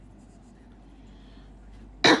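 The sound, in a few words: cough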